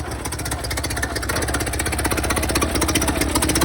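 A 1929 Ford Model A engine runs with a small leak, a rapid even chugging beat that stays steady and close, with no talk over it.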